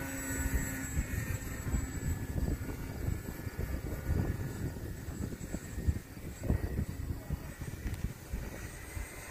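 A Mamba10 RC airplane flying at about half throttle on a windy day at a flying club, a faint steady motor drone buried in heavy, gusty wind buffeting on the microphone.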